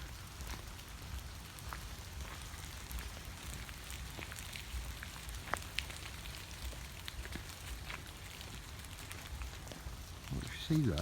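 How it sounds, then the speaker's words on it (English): Steady rain patters outdoors with scattered louder drops, a continuous soft hiss throughout. "If you can hear it raining."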